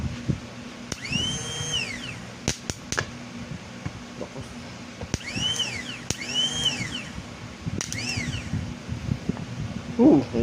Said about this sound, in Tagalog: testing na natin kung iikot na yung kanyang starter motor